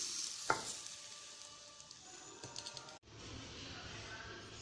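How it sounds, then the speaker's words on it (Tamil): Hot tempering with asafoetida poured over instant mango pickle, giving a steady sizzle and frying crackle with a few sharp spits, then the sizzle softens and carries on more quietly. "இப்போ இதை எடுத்து அப்படியே இது மேலே எல்லா இடமும் படுற மாதிரி ஊற்றிடலாம்."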